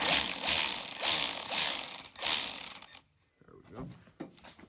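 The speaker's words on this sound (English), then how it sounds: "Grab the old ratchet again." A ratchet wrench clicks rapidly in bursts for about three seconds while taking parts off the top end of a 1980 John Deere Spitfire 340 engine, then stops and a few softer handling noises follow.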